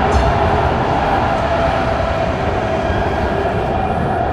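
A train rumbles past near a railway crossing, a loud, steady roar of rolling wagons that fills the whole stretch without any talking.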